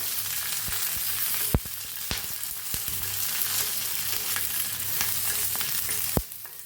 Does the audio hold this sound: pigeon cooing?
no